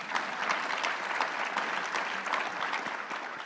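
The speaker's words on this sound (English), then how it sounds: "there are people in the crowd who are clapping right now" An audience at a live talk claps steadily throughout, a dense even patter of many hands filling the room without pause and with no voices over it.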